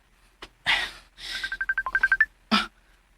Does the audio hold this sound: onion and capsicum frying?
no